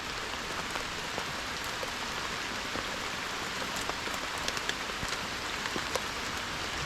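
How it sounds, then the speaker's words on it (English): Heavy rain pours down in a swamp, a dense, steady hiss of drops drumming on water and foliage with no letup and no voices. "it's raining hard out here right this minute"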